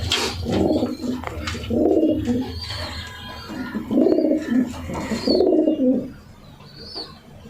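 Racing pigeon from the BRBFC 2022 line cooing in repeated low, throaty phrases, close and steady, with brief pauses and a faint chirp between bouts.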